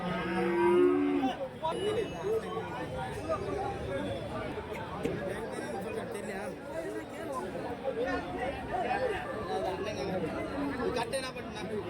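Native cattle moo repeatedly at a busy livestock market in Orappam, Krishnagiri district, over constant crowd chatter and bargaining voices, with several calls loud and close.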